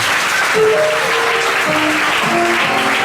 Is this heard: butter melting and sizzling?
no